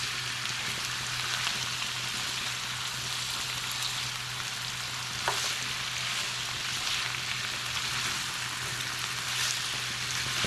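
Organic farm-grown squash fries in a pan, giving a steady, close, continuous sizzle and crackle with no talking over it.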